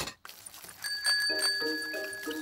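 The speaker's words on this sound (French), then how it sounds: "Et ici, la sonnette." A cartoon bicycle bell rings in a short series of bright metallic dings. They sound close and clear over a light background, with no talking.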